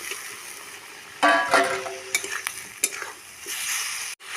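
Fried cauliflower sautéed in a pan, a close sizzle broken by sharp spatula scrapes and clinks against the metal as the pieces are stirred.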